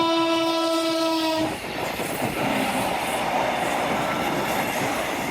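A Class 37 diesel locomotive's horn blares loudly for a moment, then cuts off as the train rushes past along a seafront with a dense, roaring rumble and rattling wheels.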